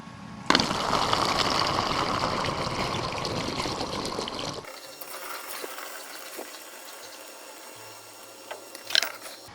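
Liquid weed fertilizer pours through a funnel into a bottle, a steady close trickle for about four seconds that then stops, leaving quiet handling noises and a brief clatter near the end.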